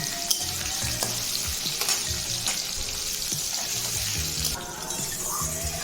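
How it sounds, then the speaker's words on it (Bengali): Onions and slit green chillies frying in oil over medium-high heat, a loud, close, continuous sizzle with rhythmic stirring and spatula scrapes, no voices. "পেঁয়াজটাকে একটু লাল করে ভাজবো মিডিয়াম টু হাই ফ্লেমে পেঁয়াজটাকে ভাজবো"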